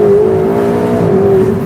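A Ferrari 488 GTB engine holds a loud, steady high-pitched drone, slightly dipping and rising as it runs at speed.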